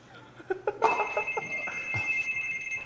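A few soft knocks come first, then a telephone or intercom in a home kitchen rings out loud and close, a sustained bright ringing tone that continues to the end under light background noise.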